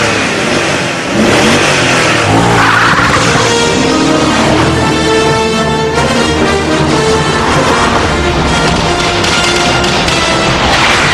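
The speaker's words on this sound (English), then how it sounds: "The 360-degree spin is easily controlled." A car's engine revs hard and loud during a 360-degree spin, the note rising and falling continuously without pause and with no other sounds.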